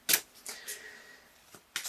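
Tarot cards being shuffled by hand, a few quick papery riffles and soft slides with short pauses between them, close and fairly quiet, no talking.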